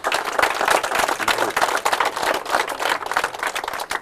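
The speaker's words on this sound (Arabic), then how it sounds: "أعطونا تصفيق عليه" An audience bursts into sustained applause for a kind man, a dense, loud wash of many hands clapping steadily and close, with no voices standing out.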